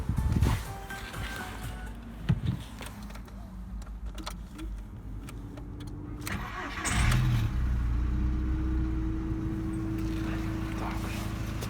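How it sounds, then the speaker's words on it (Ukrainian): A Volkswagen Golf 4 car engine idles steadily nearby, a low continuous hum that grows a little louder and fuller partway through, with a few clicks and rattles early on. "Мотор працює чітко."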